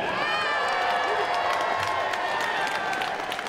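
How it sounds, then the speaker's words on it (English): Crowd applause and cheering after an amateur fight at an island fight event, a dense, loud, continuous wash of clapping and shouts filling the whole stretch with no break. "how about a round of applause for these young men?"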